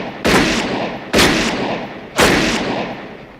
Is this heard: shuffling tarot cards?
no